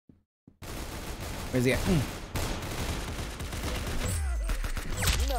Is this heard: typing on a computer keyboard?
no